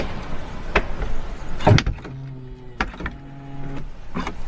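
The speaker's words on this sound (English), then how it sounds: "Nice little soft close there." A BMW car door swings and pulls itself shut with a soft-close mechanism, a soft, muffled thud followed by a brief mechanical whir and faint clicks.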